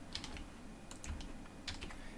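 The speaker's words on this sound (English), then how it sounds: "hit tab on my keyboard" Computer keyboard keys tapped while entering supplier details in accounting software: a few soft, quiet clicks spaced irregularly, close and isolated.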